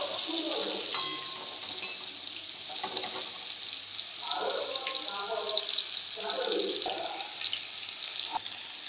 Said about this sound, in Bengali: আমি এবার আলুগুলোকে ভালো করে তেলের মধ্যে দিয়ে একটু ভাজবো।